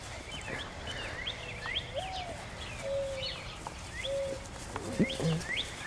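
A bird chirps outdoors in a yard where a Goldendoodle dog plays. Short, bright calls repeat irregularly at moderate distance over a low background rumble.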